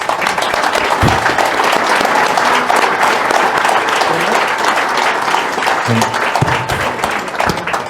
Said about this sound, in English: can we just give a round of applause for this awesome panel, please?